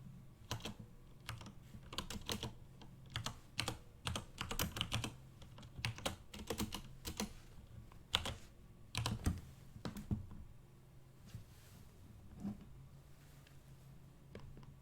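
Rapid clicking of computer keys in uneven bursts, close and fairly quiet, with short pauses between runs of typing.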